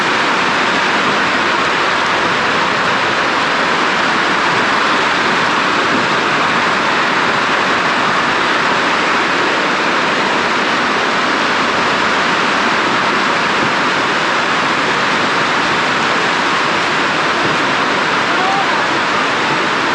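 Rain falls steadily on a forest campsite where food is being cooked outdoors: a dense, unbroken hiss that stays loud and even for the whole stretch, with no distinct voices standing out.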